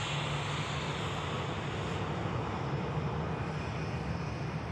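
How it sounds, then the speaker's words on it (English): An easyJet Airbus A320 taxis toward the runway to line up, its steady engine roar a broad, continuous wash with a low hum underneath, held at an even level throughout and mixed with outdoor wind. "EasyJet about to line up."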